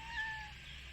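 A cat near a dam gives a single short, clear meow close up against quiet outdoor background noise.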